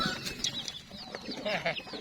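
Chickens cluck in repeated short bursts at close range while being fed on a farm alongside ducks, goats and a vegetable garden, with faint background voices.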